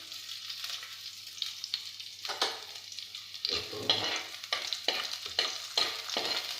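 Finely chopped garlic sizzles and frays in a hot pan while being stirred for a spicy tuna fish curry, a steady hiss broken by repeated scraping strokes, close and moderately loud with no talking.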